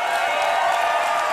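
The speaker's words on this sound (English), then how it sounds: "Give him a massive round of applause." Audience applause and cheering at the Seasons Beatings 2019 chessboxing event after a first-round knockout: a dense, steady wash of clapping and crowd noise throughout.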